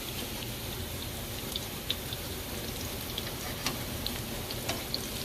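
Salmon cakes fry in a pan with a steady, fairly quiet sizzle, small pops and crackles scattered through the sound.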